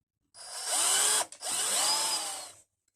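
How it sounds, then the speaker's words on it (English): A power drill bores out a small steel locking-pin dowel on the tipping ram of a Thwaites Giant dumper, whining in two bursts split by a brief pause, close and loud with no talk. "Now you see that wee dowel there, so that's the wee locking pin, as they call it. That needs to be drilled out."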